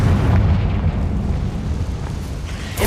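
A Confringo explosion spell cast in Hogwarts Legacy on PlayStation 5, a loud, booming blast with a deep rumbling body that roars on continuously.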